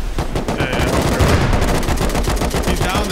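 Rapid bursts of automatic gunfire from a turret and players in the survival video game Rust, loud, dense repeated shots filling the whole moment with no pause.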